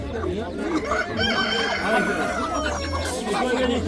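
Domestic laying hens at a Samarkand poultry market cluck and cackle steadily throughout, mixed with a rooster-like call, under continuous nearby talk and market bustle.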